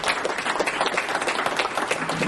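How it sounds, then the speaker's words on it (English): Meeting attendees give a round of applause for a team of experts, a continuous dense patter of many hands clapping at moderate level, with no talk over it. "a round of applause for the team of experts"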